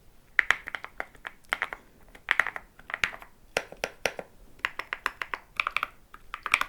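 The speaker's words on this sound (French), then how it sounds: "Le clavier d'Altean qui a des touches creamy" Typing on a 75% mechanical keyboard from Altean with creamy keys: close, crisp bursts of keystrokes in uneven clusters with short pauses between, no voices.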